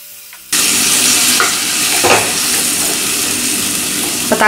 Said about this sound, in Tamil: இப்போ தக்காளி நல்லா வதங்கி சாஃப்ட் ஆகணும்.